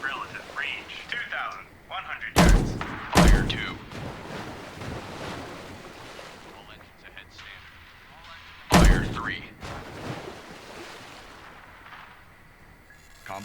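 Three sharp, loud weapon blasts ring out in the video game Destroyer: The U-Boat Hunter, two close together and one later, over steady wind, sea wash and faint radio voices.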